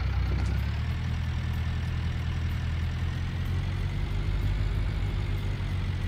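A small tractor engine runs steadily at close range, giving a continuous low, rumbling drone with an even loudness throughout and no voices.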